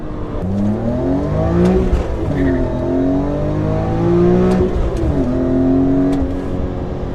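A supercharged BMW E39 M5 with an ESS VT560 kit revs hard after a downshift into third, engine pitch climbing in repeated sweeping pulls with brief dips at shifts, loud and close throughout.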